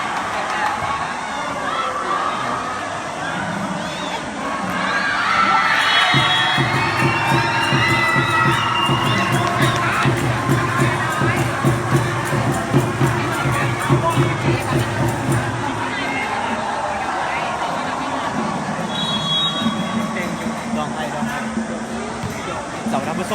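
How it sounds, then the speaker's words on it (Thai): A sports faculty cheering section packs the sidelines at a beach volleyball final, producing loud, continuous crowd shouting and cheering, with a rhythmic chanted stretch in the middle and excited voices overlapping throughout. "เราจะนำพาท่านผู้ชมมาที่ตามรับชมขอบสนามสดๆของเชียร์คณะการกีฬา"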